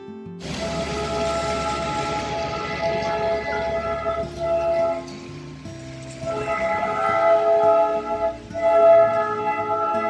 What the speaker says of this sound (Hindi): आ पहुंचा सिलीगुड़ी से दार्जिलिंग जा रही टॉय ट्रेन